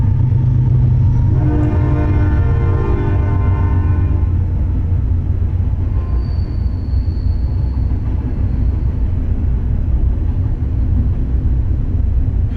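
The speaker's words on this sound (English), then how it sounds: "And I hear a train." A train passes in the distance, with a long low rumble and a sustained horn-like tone rising over a steady background for several seconds before it fades.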